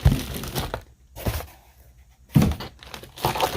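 A plastic Ziploc bag crinkles as it is opened to take out a jewelry-making tool kit, with two close bursts of rustling separated by a brief quiet gap.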